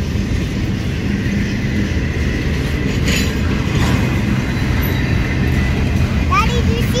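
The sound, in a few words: Norfolk Southern train passing railroad crossing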